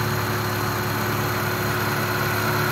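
A Mitsubishi Lancer Evo 3 with an injection engine idles close by in a steady, even hum with faint vibration, and nobody speaks.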